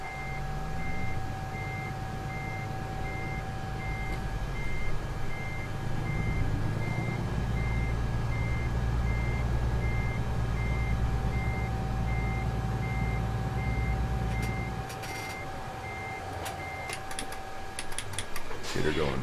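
A truck reverses in American Truck Simulator with a steady, repeating backup beeper over a low engine rumble. The engine drops in pitch near the end, and a voice talks over parts of it.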